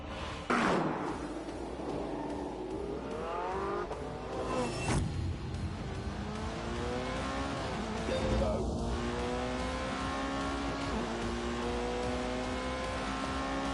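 A McLaren and a Porsche lap a track during shakedown runs in The Grand Tour Game, engines revving and shifting through rising gear sweeps, loud and close, with a sharp thump near the start.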